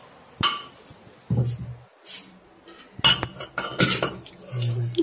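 A pressure cooker in a home kitchen is knocked on, giving several sharp metallic clanks spread unevenly among other clattering kitchen noises and brief voices.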